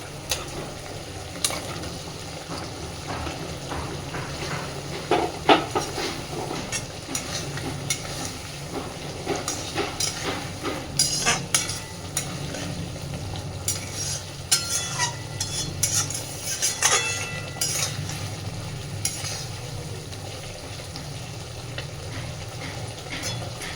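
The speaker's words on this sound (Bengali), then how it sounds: "পটলটা দিয়ে মিনিট 2 মশলার সাথে খুব ভালোভাবে নাড়াচাড়া করে মিশিয়ে নিয়েছি" Fried pointed gourd is stirred with spices in a pan, giving a continuous soft sizzle under repeated scraping and clattering of a spatula, close and steady throughout.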